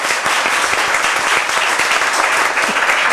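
Steady, dense applause from an audience at a spelling quiz final, continuous and fairly loud throughout with no clear voice on top.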